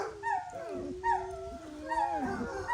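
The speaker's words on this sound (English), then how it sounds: "once one starts howling, they all join in" Eight-week-old basset hound puppies howl together in overlapping, wavering cries that rise and fall close by, with no voices in between.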